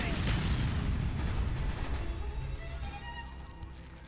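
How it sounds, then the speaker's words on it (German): Gunfire in Call of Duty: Black Ops, a burst of loud rapid shots that trail off into a rumbling decay over a few seconds. "Endlich mal wieder schießen."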